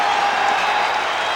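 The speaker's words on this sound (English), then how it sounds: "Crowd getting into it." A basketball arena crowd cheers and applauds in a dense, steady roar that fills the space, loud and continuous throughout.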